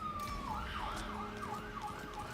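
Ambulance siren wailing in a rising and falling sweep somewhere in the background, steady and moderately distant under a faint bed of room noise.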